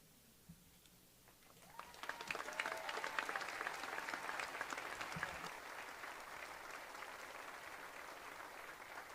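Applause builds after a speech at a 2020 high school commencement, a large crowd clapping in a roomy space, rising after a quiet start and holding steady, moderately distant.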